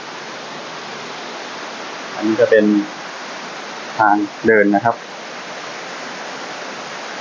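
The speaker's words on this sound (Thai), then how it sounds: "ฝั่งด้านขวาก็จะเป็น ทางน้ำตกที่ไหลลงมานะครับชันนิดนึง" A waterfall in Phetchabun, Thailand, pours down a steep slope beside a forest walkway, giving a constant rushing hiss throughout while someone talks in short phrases over it.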